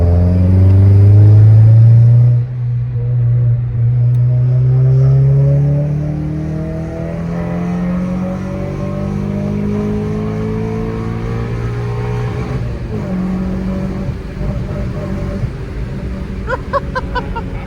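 A modified Honda car engine with aftermarket engine mods and Hondata tuning revs inside a parking garage. A loud, close, echoing rumble rises and falls through repeated revs, with a brief voice near the end.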